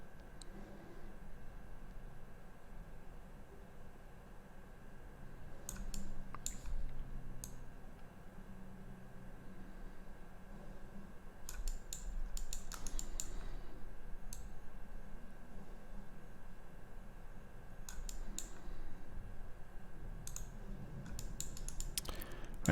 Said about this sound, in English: Click with the left in the mouse and you start to design.